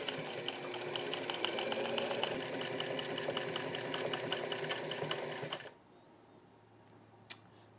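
A sewing machine stitches buttonholes on a button-up shirt, running loud and close in a fast, even chatter for about six seconds. It then stops, followed by quiet and a single sharp click.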